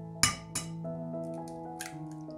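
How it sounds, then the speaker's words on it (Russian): Four eggs cracked one after another against the rim of a deep bowl in a home kitchen: a couple of sharp, close taps and clinks, then quieter knocks, with no talking. "в глубокую емкость разбиваем 4 яйца"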